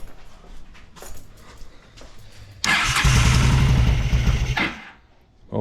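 An old engine that sat for almost a decade runs with the choke partly on. A quieter rough idle comes first, then it suddenly jumps to a loud, steady, faster run for about two seconds before dropping back down.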